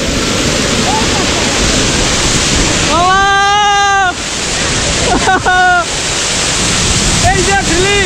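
Nokaba waterfall in Bilaichhari gives a loud, constant roar of rushing water. A few voices call out briefly over the steady torrent.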